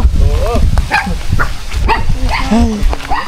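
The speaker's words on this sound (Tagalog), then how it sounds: "May aso." A dog yips and barks in short bursts amid outdoor noise, with people talking nearby.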